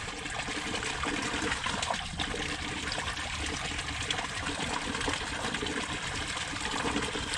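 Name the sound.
water flowing through new pond tubing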